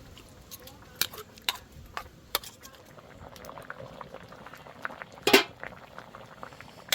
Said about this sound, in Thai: ต้มมะนำสุกแล้วพี่น้อง